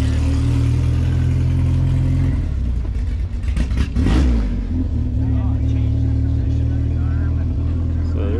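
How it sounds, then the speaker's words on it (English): A 1928–29 Ford Model A with a Diamond C engine, windshield intake and special carburetor idles loudly with a steady low rumble at a time trials event, briefly revving up midway before settling back to a lumpy idle; voices talk nearby. "Model A with a Diamond C engine, windshield intake, special carburetor."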